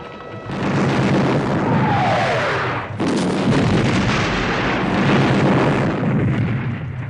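Artillery bombardment on a battlefield in the 1970 film Waterloo, heavy continuous booming and rumbling cannon fire, loud and dense, with a whistling shell passing and a sharp blast midway.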